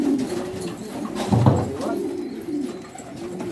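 Pigeons coo in a loft, with a soft low call swelling briefly in the middle over a murmuring background of birds.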